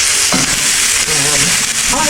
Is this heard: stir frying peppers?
yes